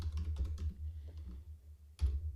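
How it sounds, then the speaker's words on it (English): Keys tapped on a computer keyboard in a quiet room, a run of soft clicks early on, a lull, then another brief burst near the end, close and fairly quiet with no one talking. "I'm going to type this out"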